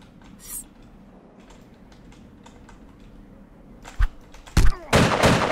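Video game shotgun fire: a few loud, sharp blasts near the end, preceded by quiet keyboard clicking and faint background game sounds.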